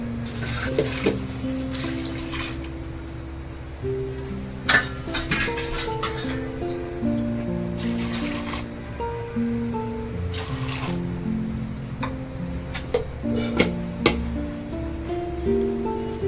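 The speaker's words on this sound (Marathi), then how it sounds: "पाणी ओतूया" Water runs and splashes into a pressure cooker holding chana dal in a home kitchen, with a few metallic clinks of the pot and utensils between bursts of pouring.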